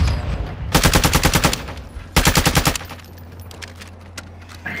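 Two rapid bursts of MX9 submachine gun fire in a video game, each a loud, tightly spaced string of shots, separated by a short pause and followed by quieter ambient game sound.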